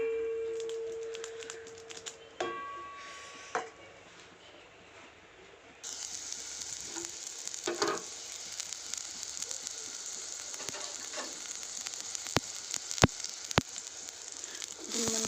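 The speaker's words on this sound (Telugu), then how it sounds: "సొరకాయని వేపుకోవడానికి ఇలా నెయ్యి వేసుకోవాలి" Grated bottle gourd frying in ghee, a soft steady sizzle that swells after a quieter start, with scattered clicks and utensil taps, close but fairly faint.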